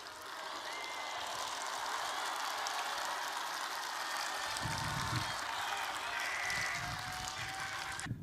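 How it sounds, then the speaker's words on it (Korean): Applause from a studio or event crowd in a Korean political news programme, a steady dense wash of clapping that continues throughout at moderate loudness, with a faint low rumble in the background. "이 박수는 문재인 대통령님한테 보내십시오"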